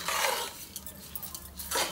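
Rice is stirred into tempering in a pan for pulihora, with metal spoon scrapes and clinks against the pan in a short, close burst.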